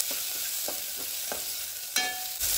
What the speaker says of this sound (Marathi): टमाट न्ही मातशें मोव जायसर आमी हितून हे आतां तळसून घेवपाचें.